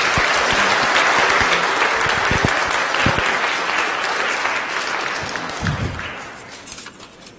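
Congregation in a church applauding graduates of the children's department, a dense sustained clapping that fills the room and gradually thins and fades toward the end.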